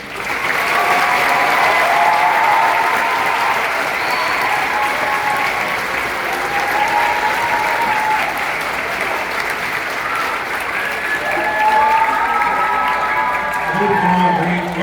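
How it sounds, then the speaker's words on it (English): A large audience at a high school graduation applauds steadily and loudly throughout, with a few scattered cheers and voices mixed into the clapping. "let's give our graduates one more round of applause"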